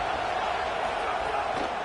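A dense stadium crowd roars steadily on a big third down in a college football video game against FSU, a continuous wall of cheering noise with no breaks.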